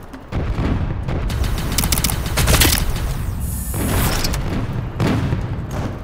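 A dense barrage of cannon and plasma gunfire in the shooter game Sector's Edge, loud continuous bursts and booms with rapid repeated shots throughout.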